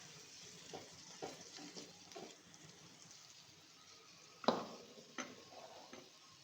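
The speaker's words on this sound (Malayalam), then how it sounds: "പാത്രങ്ങൾ എടുക്കുന്നത് അതിൻ്റെ ഇത്രയും സൗണ്ട്." Cooking vessels picked up and handled while prawn roast cooks, several light clinks and knocks scattered over a soft background sizzle, with one sharper metallic clank standing out.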